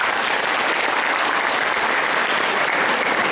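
A concert audience celebrating the anniversary of Crimea's reunification with Russia applauds, thick continuous clapping that is loud and steady from start to finish.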